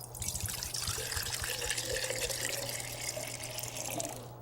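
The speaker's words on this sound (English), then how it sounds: "Fill each jar half the way full with water." Water pours steadily into clear glass jars filled halfway, a continuous close splashing and trickling stream that holds an even level throughout with no talk.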